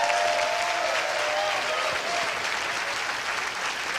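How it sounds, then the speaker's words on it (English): Audience applause fills a room in dense, steady clapping that stays loud and even for several seconds, with a faint tonal hum beneath it. "give them a big round of applause"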